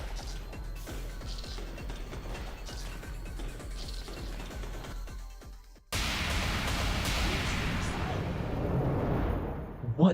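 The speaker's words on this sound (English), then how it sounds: "at the same time I sense the explosion behind her" A sudden loud explosion blast in the Fate/Extra CCC video game, breaking in abruptly midway after quieter game audio and followed by a sustained rumbling roar.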